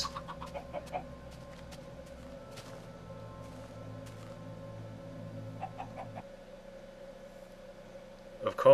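Minecraft chickens cluck in scattered short bursts over a steady low hum. The clucks come in small groups near the start, middle and end and are faint rather than loud.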